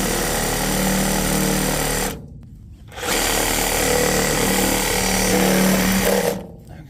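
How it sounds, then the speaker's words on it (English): A harsh, buzzing reciprocating saw cuts through a water well pipe steadily, stops briefly for under a second, then resumes loud and close before cutting off near the end. "we need the Sawzall, we need the drill with the round blade in it, and then we'll cut that out"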